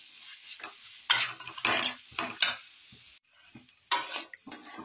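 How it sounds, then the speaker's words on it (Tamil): Fried idli pieces are sautéed in a pan for chilli idli, heard as bursts of scraping and stirring with metal utensil clatter and a light sizzle, close up and separated by short quiet gaps. "ஆட் பண்ணி நல்லா வதக்கணும்."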